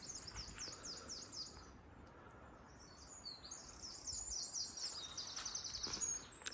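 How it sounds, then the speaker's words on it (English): Birds sing in a cottage garden beside a planted woodland, with bright repeated chirping phrases near the start and a longer warbling song toward the end over faint outdoor ambience. "Isn't the bird song lovely?"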